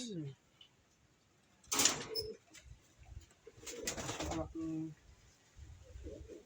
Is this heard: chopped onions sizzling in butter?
no